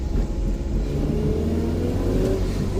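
Revving engine of a Chevrolet Cobalt SS with a high mechanical whine riding over a steady, loud low drone, heard close from inside the car.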